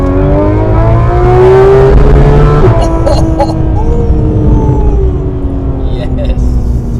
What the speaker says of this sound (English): The JCR exhaust is no joke, dude. That sounds so good.